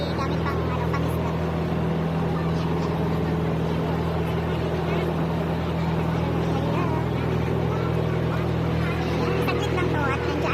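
Steady engine drone of motorboats on the water, a continuous low hum with a faint babble of voices in the background.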